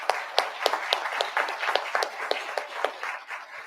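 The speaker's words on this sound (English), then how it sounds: "Once again, a round of applause." A school board session audience claps in a steady, evenly spaced rhythm of sharp, fairly close hand claps, like a brief round of applause with no voices over it.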